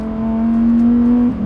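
Lamborghini Huracan STO engine holding a loud, steady rev, a strong sustained drone that swells slightly and then drops off near the end, with no talk.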